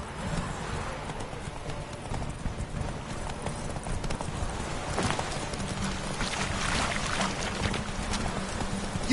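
Geralt's horse Roach gallops in The Witcher 3: steady rhythmic hoofbeats over ambient outdoor noise, continuous and moderately close, with no speech.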